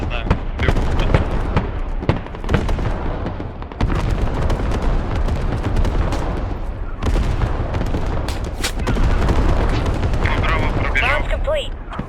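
Artillery barrage in the Squad military shooter during an assault on underground tunnels: continuous heavy booms and rumbling impacts, with sharp cracks of gunfire scattered through, loud and sustained for the whole stretch.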